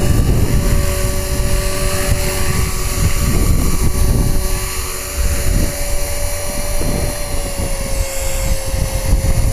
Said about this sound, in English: I can actually hear the motor starting to lose a bit of power there.